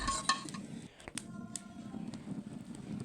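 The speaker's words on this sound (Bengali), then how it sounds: "আপনারা দেখতেই পাচ্ছেন আমি ডিম ভেজে নিয়েছি এবং সেগুলো পিস পিস করে নিচ্ছি।" Fried eggs being cut into pieces in a pan, with sharp utensil scrapes and clinks against the metal over a faint background sizzle, close and fairly quiet, with no one talking.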